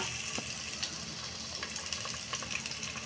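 Chana dal frying with ginger-garlic paste in hot oil, a steady close-up sizzle with small crackles and pops throughout and no talking.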